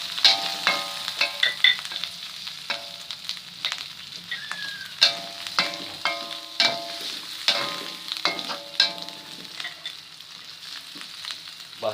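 Sausage sizzles in a hot pan while being fried for spicy seblak, with steady crackling and repeated scraping, stirring knocks at an even, close, moderate level.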